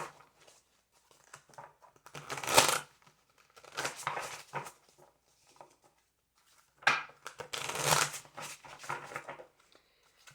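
Tarot cards are shuffled in several separate bursts of crisp riffling and rustling, close to the microphone and fairly soft, with quiet pauses between them.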